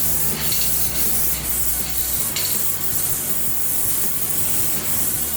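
Steady close hiss of adhesion promoter being spray-painted onto a car bumper, continuous and loud with brief breaks, alone without talk.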